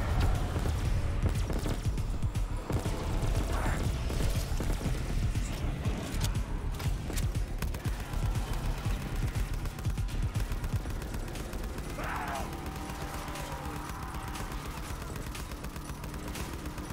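Rapid gunfire in Call of Duty Custom Zombies, on the Ameliorama II map, rattles continuously, with bursts of shots and some mechanical clatter, fairly loud throughout.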